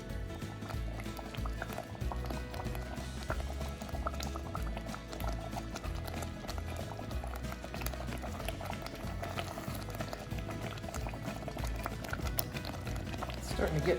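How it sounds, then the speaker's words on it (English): Pot of grits boiling hard on the stove, thick bubbles popping and spitting in a steady dense churn, close and fairly loud throughout. "Let that come back to a boil until it's starting to thicken up."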